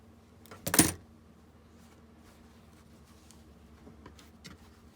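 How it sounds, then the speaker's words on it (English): Scissors snip a quick slit into a greeting card tag, one short sharp cut close up, followed by quiet faint handling noises. "So you just cut a little slit."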